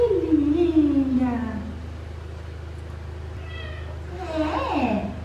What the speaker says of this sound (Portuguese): Simplesmente entrou uma gata aqui.